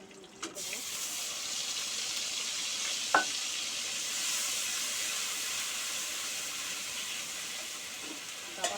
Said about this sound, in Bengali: এখন আমি এই পেস্টটা, এখানে আদা বাটা, রসুন বাটা, পেঁয়াজ বাটা, দুটো কাঁচা লঙ্কা বাটা, এটা এখন আমি দিয়ে দেবো